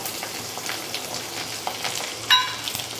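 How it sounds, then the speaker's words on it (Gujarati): Whole garlic cloves fry in hot oil with mustard seeds and asafoetida for a Gujarati spring onion curry, giving a close crackling sizzle with scattered pops and one brief sharper burst near the end. "હવે નાખીશું આખી કળી લસણની"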